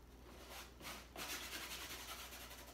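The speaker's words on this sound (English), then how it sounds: "rub it all really good, make sure it's sticking" Faint, close rubbing as a fingertip presses a butterfly decal onto a plastic milk jug, a soft continuous scuffing that swells briefly then grows steadier.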